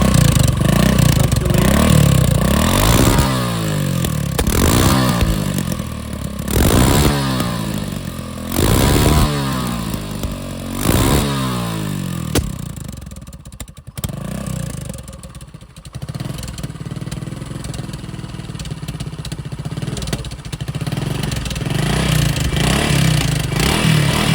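A Honda TLR 250 motorcycle engine idles roughly up close, with a few throttle blips early on before settling into a steady, loud rumbling idle.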